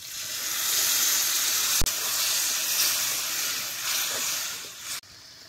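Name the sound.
water poured into hot spiced pan, hissing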